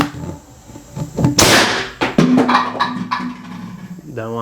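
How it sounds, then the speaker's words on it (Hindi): A homemade plasma rocket launcher fires with a sudden sharp blast followed by crackling, ringing noise, loud and close. "धमाका बहुत ज़बरदस्त था"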